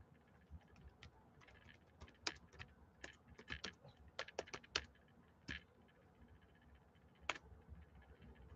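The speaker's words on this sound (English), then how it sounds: "I'll just type it in the chat here for you." Quiet, irregular keystrokes on a computer keyboard, typed in short uneven bursts with brief pauses between them.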